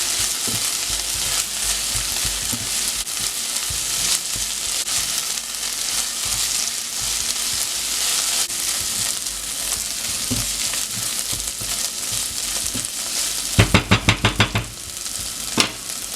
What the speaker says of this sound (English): Cook the onions until they turn soft and translucent.